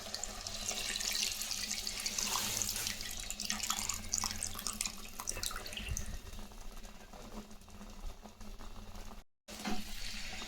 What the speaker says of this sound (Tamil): இப்போ நம்ம கரைச்சி வச்ச புளி தண்ணியை இதில் சேர்த்துக்கலாம்